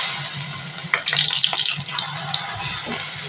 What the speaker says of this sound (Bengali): তেলটা গরম হয়ে গেছে, এবারে এক এক করে বড়াগুলো ভেজে নেব।